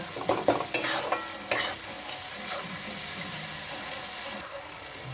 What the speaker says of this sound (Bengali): এবার এটা আমি ভালো করে কষিয়ে নেব। যতক্ষণ তেল না ছাড়ছে ততক্ষণ কষিয়ে যাব।